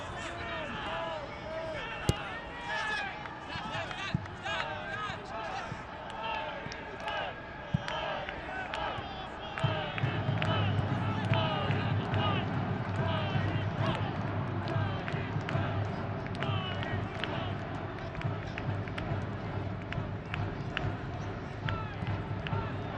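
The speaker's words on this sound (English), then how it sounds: "But this is as quiet as you have heard an Indy 11 home crowd in a long time." Sparse crowd at Lucas Oil Stadium during an Indy Eleven versus Louisville City soccer match under attendance restrictions, a low, subdued murmur with faint thumps of the ball and players, under continuous commentary.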